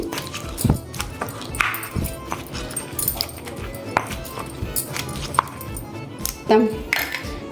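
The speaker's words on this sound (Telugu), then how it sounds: "నెమ్మదిగా ఇలా దంచుకోవాలి" Mango, onion and jaggery are pounded by hand for an Andhra-style roti chutney, with slow, irregular dull thuds of the pestle and scraping in a stone mortar, under intermittent talk.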